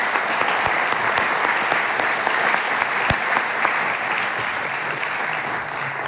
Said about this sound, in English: please join me in a round of applause for everyone who volunteered